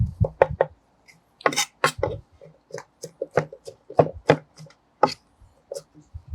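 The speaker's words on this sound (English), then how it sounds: "Let's do a fine chop on that." A knife finely chops washed vegetables on a cutting board during chicken meal prep, making a run of sharp, close knocks. The strokes come in quick bursts separated by brief pauses.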